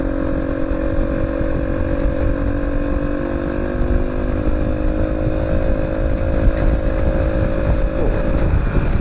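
A motorcycle engine drones steadily nearby, its pitch holding then dipping slightly as it passes, with road and wind noise throughout.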